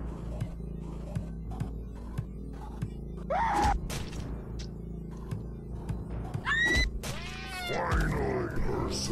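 A cat meows in the horror puzzle game Slayground, several short rising and falling meows in the latter half over soft game ambience, soft clicks and low thuds.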